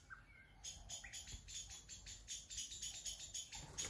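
Agitated pigeons gathering at food produce a busy run of bright chirps, calls and soft fluttering that repeats steadily for several seconds at moderate distance, with no talk.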